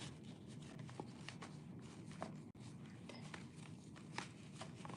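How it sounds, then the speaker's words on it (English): Tarot cards being shuffled by hand, quiet soft riffling and flicking taps repeating through the stretch, faint and close. "Not shuffling very well today."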